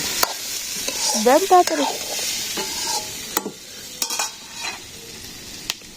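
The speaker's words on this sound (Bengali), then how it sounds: "এই যে সবজি ভেজে নিচ্ছে," Vegetables frying and being stirred in a pan during simple village cooking in rural Bangladesh: scraping, clinking stirs and a steady sizzle close by, with a brief spoken remark.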